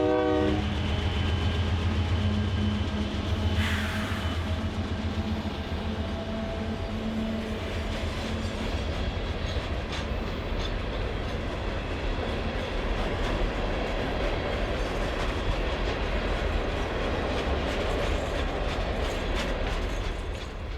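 A CN iron ore freight train hauling hoppers rolls steadily past, its loud continuous rumble and wheel clatter filling the whole stretch, with a horn blast early on before the steady roar takes over.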